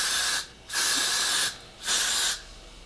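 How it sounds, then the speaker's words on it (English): Two loud bursts of aerosol spray, each about a second long, hissing close by with short pauses between them. "Oh, you just spray it out."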